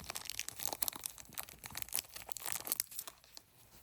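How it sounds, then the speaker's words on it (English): Scissors snip and crinkle through the taped plastic of a bead package in a quick run of faint, close cuts and rustles. "I'm gonna use some scissors to just cut this open because I don't wanna mess with undoing the tape."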